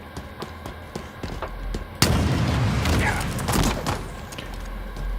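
Rocket explosions in a video game, a sudden heavy blast midway followed by a rumbling, crackling wash of debris, with small clicks and shots before it and a voice nearby.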